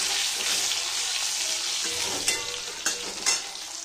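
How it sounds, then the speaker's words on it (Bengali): Eggplant and potato frying in a pan after a black cumin tempering, giving a steady loud sizzle throughout with a few sharp stirring scrapes near the end; no talk. "তারপর আমি দিয়ে দেবো বেগুন আর আলুটা। এটা একটু ভালো করে ভেজে নেব।"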